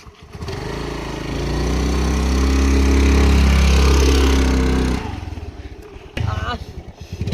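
A Honda Activa scooter engine running close by, rising into a loud, steady buzzing drone that holds for a few seconds, then cuts back sharply as voices take over.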